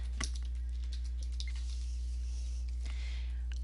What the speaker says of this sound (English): I'm only going to use my keyboard and the Tab and Enter keys.